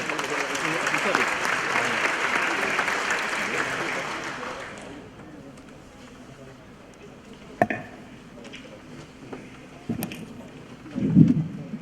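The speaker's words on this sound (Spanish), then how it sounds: "Recibamos con un fuerte aplauso a Gustavo Peruchena, del Banco Mundial" Audience applause welcoming a World Bank speaker to a session on the economic and social impact of sanitation, a dense broadband clatter that fills the first five seconds and then stops, leaving a quiet room with a few small knocks and shuffles.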